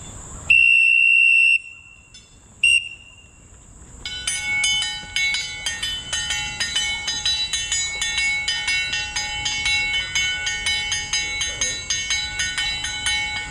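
A train arrives with a loud electronic bell or buzzer tone at first, then a long run of rhythmic clanking and ringing metallic tones repeating steadily as it pulls in, fairly close and prominent.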